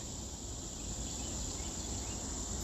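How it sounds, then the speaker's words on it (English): Loud, continuous high-pitched buzzing drone of cicadas, steady and unbroken throughout, with no voices. "And the cicadas."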